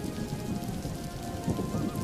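Steady rain falls in a Hindi farm story, a continuous soft patter of drops on surfaces with no talk over it.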